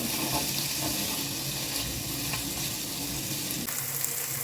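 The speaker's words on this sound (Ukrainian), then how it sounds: "Сало шкварчить" Steady, dense crackling sizzle of pork fat (lard) frying in a large pan, continuous and fairly loud throughout, with faint clinks and no voices.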